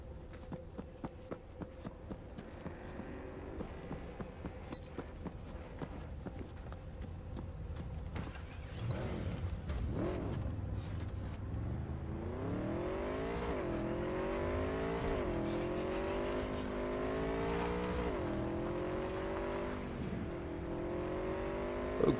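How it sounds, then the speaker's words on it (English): A motorcycle ridden in the video game Cyberpunk 2077 hums with a steady engine drone, then revs higher from about halfway through, with rising and falling pitch sweeps that stay loud and close to the end. "we're using the motorcycle right now for a bit"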